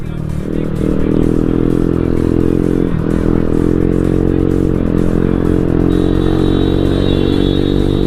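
Modified TVS Ntorq scooter with an aftermarket exhaust, a loud, close, sustained engine drone with steady harmonic tone and slight pitch shifts as it revs.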